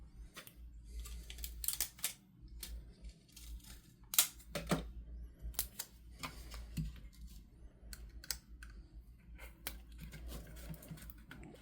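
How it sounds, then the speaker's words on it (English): Pieces of Scotch tape are pulled and torn off a roll, giving soft, irregular crackling rips and small clicks, close by and fairly quiet, with no talking. "Two pieces of Scotch tape."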